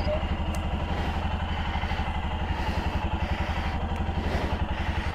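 A motorcycle engine thrums steadily and close, with a fast, even firing pulse and some mechanical clatter, as a solo touring ride from Pune to Ahmedabad begins.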